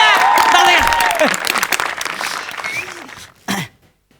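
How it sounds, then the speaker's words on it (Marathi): Applause from a comedy-show audience welcoming a speaker to the stage, dense clapping for about three seconds with a cough and stray voices mixed in, fading out before a short final burst. "जोरदार टाळ्या वाजवून दादा या"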